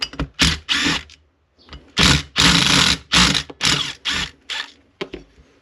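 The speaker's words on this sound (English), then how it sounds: "Now all we need to do is open up these 4 screws," Mechanical ratcheting and screw-turning clicks while the cover screws come out of a Stihl MS180 chainsaw, in close, loud bursts separated by brief pauses, with no talking.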